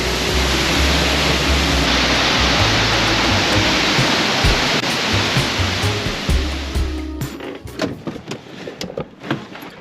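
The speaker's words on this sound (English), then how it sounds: "that's Moul Falls" Moul Falls in Wells Gray, near Clearwater, British Columbia, gives a loud, continuous thundering rush of falling water close by, with a few handling clicks and thumps toward the end.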